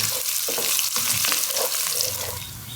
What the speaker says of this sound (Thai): หอมลงไปเจียว ค่ะนี่นะคะ เป็นไฟกลางนะครับกลางค่อนอ่อนเลยครับ